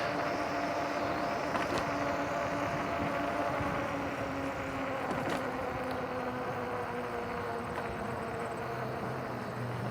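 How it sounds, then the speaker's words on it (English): Traffic passing beneath a bridge in Prospect Heights makes a steady, broad rumble and hiss of cars below, heard from a moving e-bike on the bridge deck, continuous and moderately distant, with no talk. "This is why we hear all the traffic underneath."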